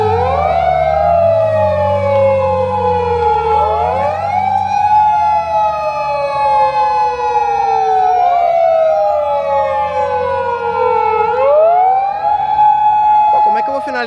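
A police car siren on a street in Yokohama, loud and close, wailing up and down in long sweeping cycles over a low engine rumble, with someone talking beneath it.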